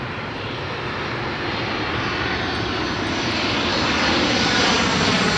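A KLM Royal Dutch Airlines Boeing 737 landing at Heathrow during thunderstorm weather, its engine roar broad and steady, swelling slightly louder as it passes close by, with no voices.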